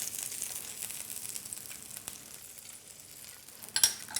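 A hake fillet sizzles quietly in a frying pan, a soft continuous hiss with a faint crackle. It stays steady and low, with a brief clatter near the end and no talk.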